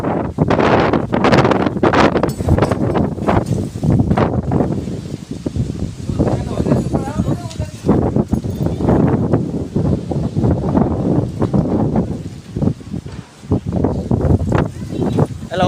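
Strong wind in a cyclone gusts and buffets the microphone in loud, uneven bursts, with rustling around it and people talking over it.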